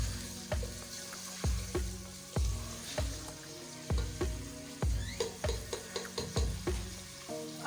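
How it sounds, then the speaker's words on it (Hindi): Chicken pieces frying with ginger, garlic and onion for an aloo chicken shorba, a steady close sizzle broken by repeated loud scrapes and knocks of a spoon stirring in the pan. "अब चिकन को अच्छी तरह फ्राई करूंगी अदरक लहसुन में और प्याज में।"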